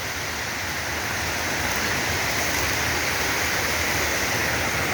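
A river with a strong current rushes in a steady, loud, broadband roar that fills the whole stretch without pause, heard close by and alone with no voices.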